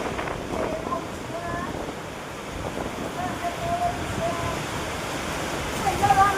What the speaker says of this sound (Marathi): गाईस बघा थोडा पाऊस.